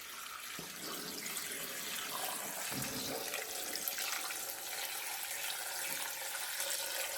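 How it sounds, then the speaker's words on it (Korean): Strained radish juice poured steadily into a batch of dongchimi, Korean water kimchi, making a continuous close liquid splashing and trickling that runs unbroken for the whole stretch with no talking. "즙 내린 물을 동치미에 부어보도록 할게요. 즙 내린 물 다 부어줍니다."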